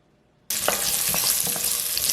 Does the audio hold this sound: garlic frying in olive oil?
yes